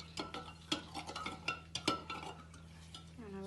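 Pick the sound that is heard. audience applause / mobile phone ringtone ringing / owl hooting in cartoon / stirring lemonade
stirring lemonade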